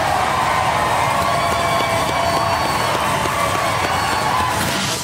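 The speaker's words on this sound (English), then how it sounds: "can we have a round of applause for the Beast of Bodmin?" A studio audience at a televised robot combat event claps and cheers loudly for a competing robot, a dense sustained roar of applause and whoops filling the whole stretch.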